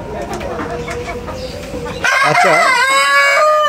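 Chickens on a small poultry farm cluck, and a rooster crows loudly and close by. A brief spoken word comes just before the crowing.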